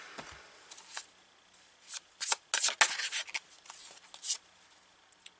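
Oracle cards are shuffled by hand in short, crisp riffling bursts separated by quiet pauses, close and fairly clear against a near-silent background.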